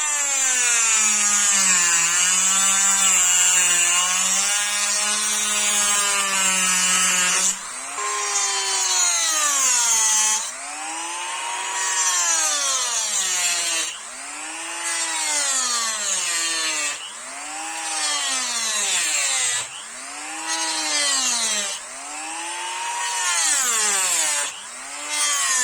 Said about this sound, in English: I use a Dremel with a cut disc.